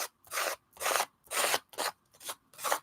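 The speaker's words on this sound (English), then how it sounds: "Take your card and mash it all down. And you'll have excess come up, and then just scrape that off." A card scrapes excess glue and paper down across a mixed-media collage journal page in six distinct rasping strokes, each about a third of a second, close and loud with short silences between.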